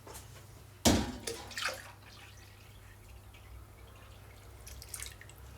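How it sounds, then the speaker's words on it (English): Cold water splashes and pours into hot water: one sharp close splash at the start, a few smaller gurgles and drips after, then quiet trickling under a steady low hum. "I'm just going to add some normal water, some cold water"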